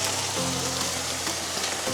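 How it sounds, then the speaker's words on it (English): Sauce hitting a hot pan of vegan gyudon gives a loud, continuous sizzle and crackle that stays strong throughout, with no voices. "gonna add that sauce"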